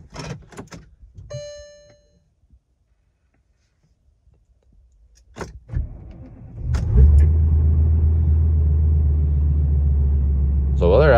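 V10 TDI diesel engine in cold weather below freezing: clicks and a door sound, brief cranking, then the engine catches and settles into a loud, steady low rumble close up, with a short voice early on.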